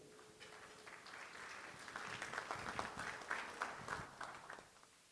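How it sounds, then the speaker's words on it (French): An audience at a gala applauds, and the clapping swells from a few hands into steady, moderately distant applause before fading at the end. "S'il vous plaît, on peut applaudir pour lui."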